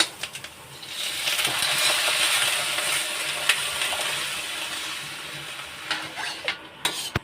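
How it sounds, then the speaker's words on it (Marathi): Water is poured into a pan of fried green vegetables to start a soup, giving a sustained rushing pour and hiss that settles into bubbling, followed by a few sharp clinks of a utensil against the pan. "आता आपण यामध्ये पाणी ॲड करणार आहोत"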